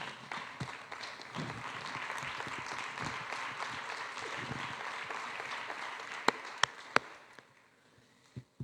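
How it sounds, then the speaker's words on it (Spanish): A church congregation applauds together in a steady, full-room wave of clapping that runs for several seconds, then thins out and tapers to a few scattered final claps. "Den un aplauso a la palabra de Dios"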